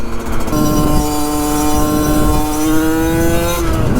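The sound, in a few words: Yamaha 50cc moped engine revving, badly tuned carburetor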